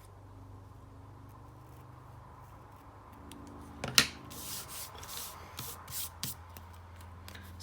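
Paper pieces are cut on an angle for a stamping craft project: a sharp snip followed by soft rustling and scraping of paper close by.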